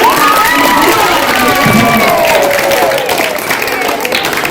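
Schoolchildren at a government school event cheer and clap loudly together in a sustained burst of applause. Shouts and whoops rise over it, fading slightly toward the end.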